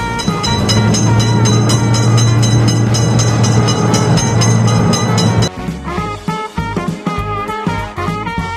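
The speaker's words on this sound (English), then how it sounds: "Train is coming!" Cartoon-style train from a kids' railroad crossing game rolls through loudly with a steady rumble and tonal hum, then breaks into sparser clattering and chiming game sounds for the last few seconds.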